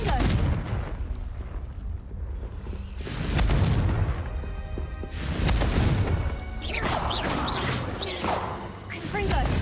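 Repeated Confringo blasting-spell explosions in the video game Hogwarts Legacy, several heavy booming bursts with whooshing tails arriving every few seconds, loud and close, with a voice speaking over them.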